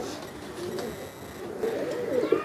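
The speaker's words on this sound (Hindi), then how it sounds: "ये कौन से कबूतर? इलाहाबाद की शान, काले पर वाले फुलसरे" A pair of black-winged Phulsare pigeons of Allahabad coo softly at close range, a few low throaty rolling calls rising toward the end, with faint background noise and no speech.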